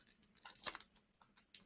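Quiet, scattered clicks of fingers typing on a computer keyboard, a few soft keystrokes in an irregular rhythm heard faintly in a quiet room.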